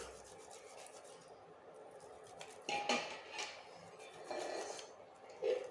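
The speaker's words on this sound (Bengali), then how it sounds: "সবগুলোকে গ্রেট করে নিচ্ছি।" Soaked sabudana being grated by hand in a kitchen, giving a soft, steady scraping and rubbing with a few brief metallic clinks, fairly quiet and close, with no talking.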